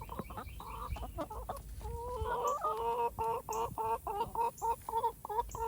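Backyard chickens cluck as they leave their coop, a busy run of close, rhythmic clucks and short calls from several birds.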